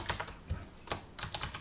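Keys on a computer keyboard are struck in short, uneven bursts of close, crisp clicks, about eight taps in under two seconds, with no voice.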